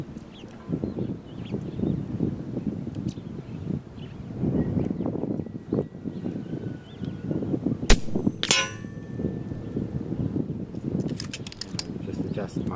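An air rifle fires H&N 21 gr .217 slugs at a long-range target, one of 100, 165 or 210 metres, at power level 2. Two sharp cracks land close together mid-clip over a low, steady background rumble.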